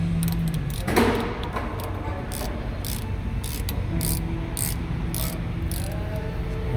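A ratchet clicks in a rapid, regular series while a 7 mm Allen bit backs out the front brake caliper pins on a rusty 2013 Ford Escape 4x4. The clicking is close and steady, with one louder knock near the start.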